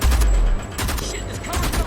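Sniper and rifle fire rattle through a firefight in the video game Homefront: The Revolution, loud bursts of shots close together over a constant battle din.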